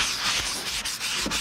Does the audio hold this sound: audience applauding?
no